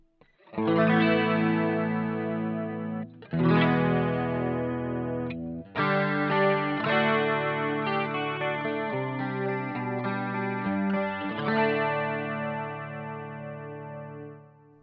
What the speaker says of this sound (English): I will just use the stereo chorus here, and we can engage it here and have a listen.